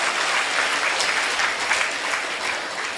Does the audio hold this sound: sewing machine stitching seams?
no